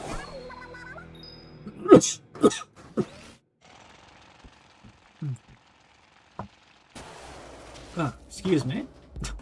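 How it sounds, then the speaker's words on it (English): Sharp coughing bursts from a gamer during a co-op game session, a few loud abrupt coughs close to the mic, followed by quieter stretches with faint clicks and then talking. "Got a little cough there."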